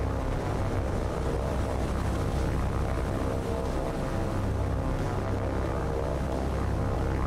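A World War II scout plane's engine drones in the War on the Sea naval game, a steady, loud, unbroken roar with a broad rumble that holds evenly throughout.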